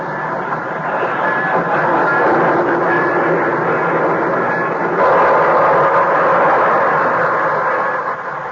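A train pulling into a station rumbles steadily with a broad, continuous roar and rolling rail noise, fairly loud and close, with no voices.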